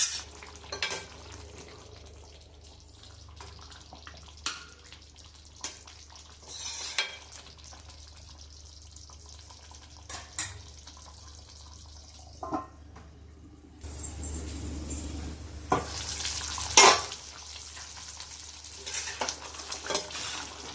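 Tamil Nadu style ennai kathirikkai kuzhambu, a brinjal curry, is stirred in a pan over low heat: a spoon scrapes and clinks at scattered intervals over a quiet simmer, with a louder stretch of bubbling and clatter later.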